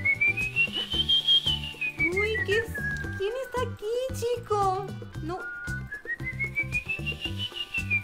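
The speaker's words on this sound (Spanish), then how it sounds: "Son silbidos." A melodic whistled tune rises and falls through the scene in the mobile game PK XD, carried over a game music backing while a voice talks across it.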